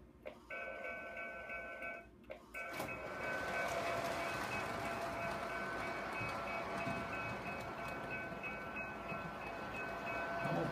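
A model train rumbles steadily with a sustained ringing bell tone, after a brief stop-start at the beginning; continuous and fairly close, no voices.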